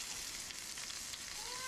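Pork dumplings sear in a hot pan with a steady, fairly quiet hiss and crackle of frying oil, continuous throughout with no voices over it.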